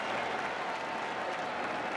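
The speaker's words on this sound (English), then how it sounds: "Listen to the crowd, Kenny." Nebraska football stadium crowd applauding at the Red-White spring game, a broad, distant-sounding roar of clapping and cheering that stays steady and uniform for two seconds.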